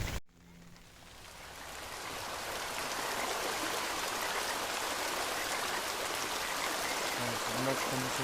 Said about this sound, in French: La pluie a fait son apparition, les amis.